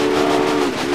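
Steam locomotive whistle in Railway Empire, one sustained tonal blast held steady and loud for the whole moment with no talk over it.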